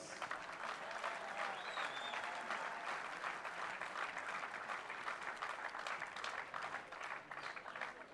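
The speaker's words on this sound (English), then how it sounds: "Let's have a round of applause." Sustained applause from a large arena crowd after a 2012 PSA World Championship squash final, a dense, even roar of clapping that carries on throughout and tapers slightly at the end.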